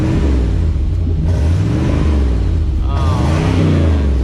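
An OBS Ford truck engine revving under throttle, a loud deep rumbling growl that rises in pitch toward the end, close and dominant, with someone speaking over it.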